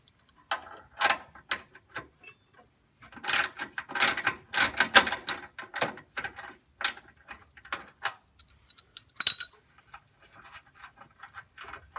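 A 13 mm bolt on a Vanagon horn mount is loosened with a ratchet. Close clicking and ratcheting comes in irregular bursts at moderate level with short gaps.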